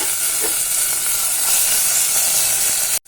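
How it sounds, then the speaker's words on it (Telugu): Tomatoes drop into hot tempering oil with fried green and dried red chillies for a taro tamarind stew, setting off a loud, continuous sizzling hiss that stops abruptly at the end. "పోపు బాగా వేగిన తర్వాత ఈ టమాటా కూడా ఇలా వేసుకోవాలి."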